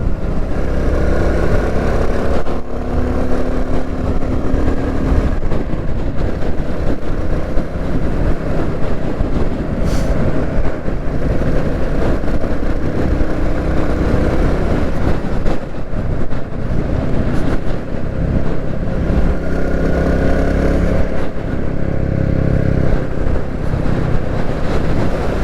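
A Royal Enfield Classic 350 motorcycle engine drones steadily throughout, with wind rumble buffeting the microphone as the bike rides along country lanes at a constant pace.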